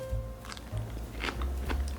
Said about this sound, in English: it keeps a nice crispy crunch to it. You could probably even hear it.